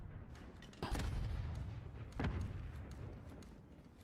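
Two sharp grenade blasts go off in a competitive Call of Duty League match, each a sudden booming burst with a rumbling tail, spaced about a second and a half apart over a steady background din.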